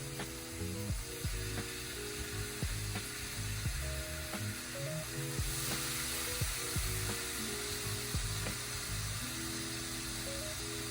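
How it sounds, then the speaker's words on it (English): Bacon fries in a hot pan, a steady close sizzle and hiss broken by intermittent clicks and clatter of utensils or handling. "See, our pan was ready for the bacon to get in here."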